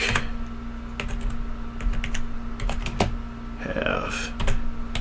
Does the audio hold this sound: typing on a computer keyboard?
yes